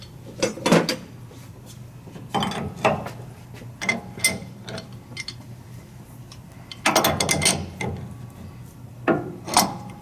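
Ratchet clicking and scraping in several separate bursts on the tie rod end of a 1996–2004 Toyota Tacoma, close up, with quiet gaps between the strokes.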